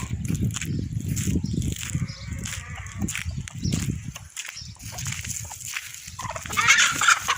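Chickens clucking and calling close by in a yard, a busy overlapping run of clucks and gobble-like cries, with a brief voice near the end.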